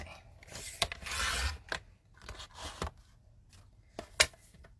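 Scissors cut through a sheet of paper during an art background-making session, a few soft rasping snips and rustles close by, quiet, with no talking.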